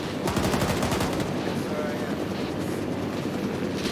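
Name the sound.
machine gun fire in a war video game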